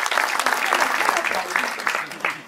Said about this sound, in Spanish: No estoy acostumbrada a los aplausos.